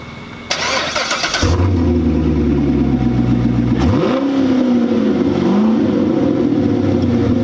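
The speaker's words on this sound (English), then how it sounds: "The header dump sounds amazing." A Corvette Stingray engine with an MBRP exhaust, catless pipes and an open header dump cranks, fires up and revs with a raw, loud exhaust roar, then settles into a rough, rumbling idle with a short rev.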